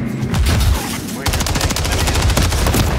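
Close, loud automatic gunfire in a Call of Duty: Modern Warfare 3 multiplayer match, with rapid sustained bursts firing almost without a break.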